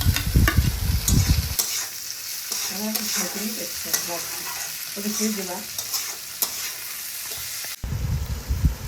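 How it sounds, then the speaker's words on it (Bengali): Pasta with chopped tomatoes being stirred in a frying pan, a loud bursty sizzle and scraping at the start and end, with a quieter stretch of gentle frying and soft stirring between. "তারপরে ভালোভাবে নেড়ে নেব। তারপরে টমেটো কুচানোগুলো দিয়ে দিলাম।"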